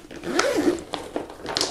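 The double zipper on a Uruav UR7 Pro FPV backpack is pulled in several quick, close strokes, each a short rasping zip with brief pauses between.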